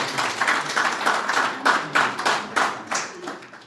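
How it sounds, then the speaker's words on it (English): Applause for an artist at an art exhibition and book launch, a smaller group clapping in uneven rhythmic bursts, close and fairly loud, fading toward the end. "He deserves a better round of applause"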